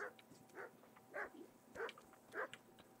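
Dogs of an executioner's pack in the medieval game Kingdom Come: Deliverance bark in five regular, faint barks spaced about half a second apart over a low ambient hum, with no talk.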